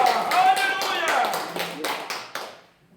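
A church congregation claps during Sunday worship in rhythmic, evenly spaced beats over a voice and ringing reverberation, then the clapping slows and dies away into silence.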